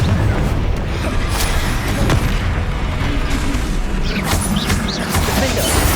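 Continuous loud crashing and rumbling blasts from a Confringo spell in Hogwarts Legacy, dense dull booms filling the whole stretch with a few sharper whooshing bursts on top, no clear gaps between impacts.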